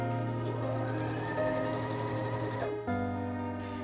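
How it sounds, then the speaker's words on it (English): A sewing machine stitches a button placket down on fabric in a fast, steady hum close by, briefly pausing and shifting pitch before it carries on. "I'm going to sew my button placket down from the right side of my fabric"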